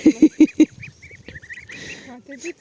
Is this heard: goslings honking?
yes